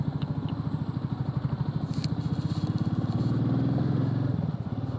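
A motorcycle engine runs steadily during a ride from Joshimath toward Haridwar along a Char Dham mountain route, with a loud, continuous, close-up rhythmic throb that swells slightly partway through.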